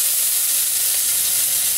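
Vegetables, hot chili and mint are stir-fried in a hot pan, making a steady, close, loud sizzle and hiss that runs unbroken for a couple of seconds without talk.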